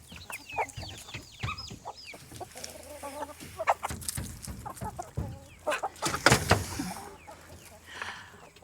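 Chickens cluck and chatter continuously, several birds close by, with a few louder squawks and busy farmyard rustling in the background.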